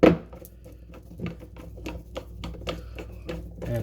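Excess butyl sealant is trimmed from the edges of a Honda/Acura ECU case. There are close, quiet clicks and soft scrapes in an irregular series, with no talking.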